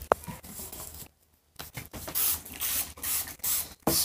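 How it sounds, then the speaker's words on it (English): Hair spray bottle misting onto a person's hair, several short bursts of broad hiss at close range, each spray separated by brief pauses. "So first I'm going to be using this little spray."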